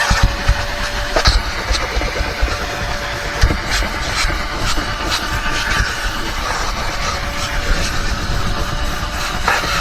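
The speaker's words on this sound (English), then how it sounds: "now onto the vacuuming" A vacuum cleaner works inside a Volkswagen Atlas during an interior detail, giving a steady, close whooshing drone with small bumps and knocks as the nozzle moves around.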